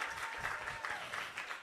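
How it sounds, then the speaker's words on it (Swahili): An audience at a youth workshop of the Tanzania Health Summit breaks into applause, a soft, fairly distant patter of clapping that runs steadily throughout. "Makofi jamani."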